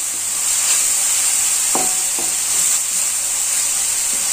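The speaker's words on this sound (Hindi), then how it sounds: "अनियन और जिंजर गार्लिक का पेस्ट भी लाइट ब्राउन होते तक थोड़ा भूनना है हमें" Onion and ginger-garlic paste sautéing in oil in a kadai, a steady close sizzle with a few soft stirring scrapes of a spoon against the pan.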